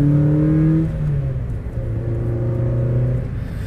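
An NB Mazda Miata engine drones steadily as the car takes a corner, its pitch sliding lower then holding, a continuous close interior rumble with no talking.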